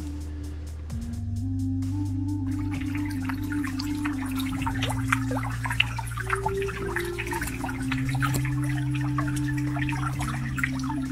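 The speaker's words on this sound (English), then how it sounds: "amplified the drops of water falling out of the sandstone" Steady close water drops falling from a sandstone cliff at Lake Powell, pattering in a faint resonant space, with a low continuous hum underneath throughout.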